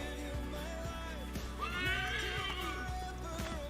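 Horse neighing in the video game Assassin's Creed 3, a loud whinny rising then falling in pitch, with a second softer snort and faint hoof clops over a low game background hum, no talking.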